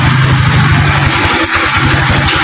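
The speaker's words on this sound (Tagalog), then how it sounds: "kailangan muna natin na patirikin yung kanyang motor para ma uh, troubleshoot natin kung ano nga ba talaga yung pinaka main issue niya" A Rusi motorcycle engine with a fault that makes it stall once warm, started and revved, loud and close, a steady mid-pitched running note with rapid pulsing throughout and no talk.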